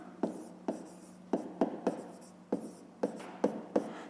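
A pen scratches across paper in short bursts, about eight separate strokes with brief pauses, close and fairly quiet, no voices.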